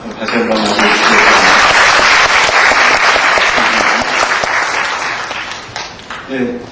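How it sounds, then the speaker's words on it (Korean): Loud, sustained applause from a large audience at a university debate competition final swells quickly, holds for several seconds, then tapers off near the end. "뜨거운 박수로 다시 한번 맞아주시겠습니다."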